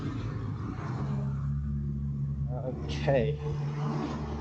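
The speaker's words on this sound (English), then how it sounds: "I'm going to take some videos of the passing vehicles right underneath it." Vehicles pass beneath a pedestrian walkway, with a steady road rumble and a car whooshing through close by, while someone speaks briefly.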